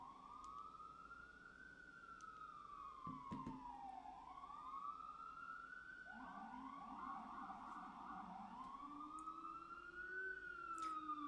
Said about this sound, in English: Just gonna wait for the siren to pass.